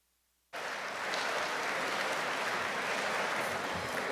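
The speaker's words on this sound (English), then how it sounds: "A round of applause for Frank Buckley." Applause bursts in after a brief silence and carries on steadily, a large crowd at a benefit event clapping loudly with no pause.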